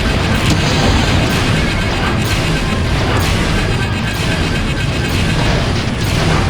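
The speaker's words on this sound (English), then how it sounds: "Incoming missile." Missile explosions in the Star Wars: TIE Fighter space-combat game: a loud, continuous roar of battle noise with repeated crashing booms and bursts throughout, no voices.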